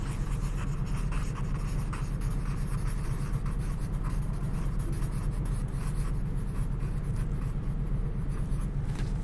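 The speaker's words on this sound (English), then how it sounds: "I'm going to use this pen just for fun, just to see if we can do it with something else. This is a marker." A marker pen scribbles on paper in a classroom art lesson, giving a continuous close scratching with rapid back-and-forth strokes and no talking.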